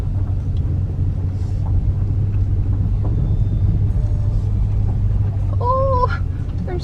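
A 2020 widebody Scat Pack car rolls slowly into a gravel parking lot in northern Italy, its low engine rumble steady and close throughout, with faint crunching and a brief squeak near the end.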